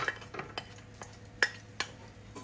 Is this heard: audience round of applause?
no